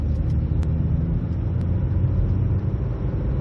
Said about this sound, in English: let's accelerate up the bypass